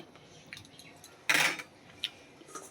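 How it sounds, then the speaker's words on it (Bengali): Katla fish pieces are turned in curry in a pan. A few light metallic taps and scrapes of a utensil lead into one louder, brief scraping stir, followed by a couple more soft clinks, nearby and quiet. "ঝোলের ভেতরে মাছটুকু দিয়ে দেব মাছটুকু দিয়ে একটু নাড়াচাড়া করে"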